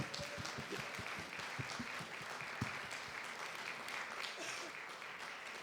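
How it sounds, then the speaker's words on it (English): Steady audience applause for an award winner at a Black History celebration event, continuous clapping from a crowd with some louder individual claps standing out nearby. "Round of applause there, people."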